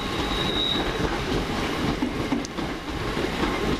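A Class 323 electric multiple unit passes through Crewe station, its steady loud rumble of wheels on rail filling the clip, with faint wheel squeal and rhythmic clatter over the joints.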